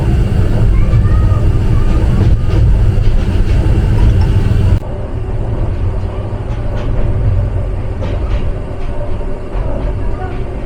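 Aboard the Parabat Express passing through Shamshernagar station in Bangladesh, a loud, steady rolling rumble fills the carriage, dropping a little in level midway as the train runs on.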